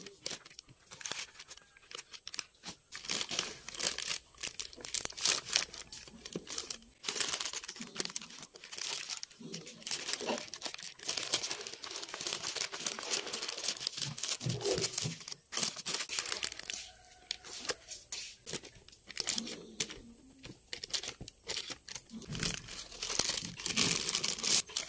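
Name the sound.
parchment paper being placed and flattened in a container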